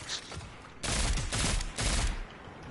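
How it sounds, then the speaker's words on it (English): Bursts of rapid hand cannon gunfire in Destiny 2, two or three loud volleys separated by short pauses, with no talking. "hand cannons work better when you blind fire them."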